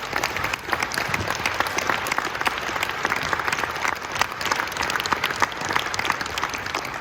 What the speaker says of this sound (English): Please give Dr. Kenny a round of applause.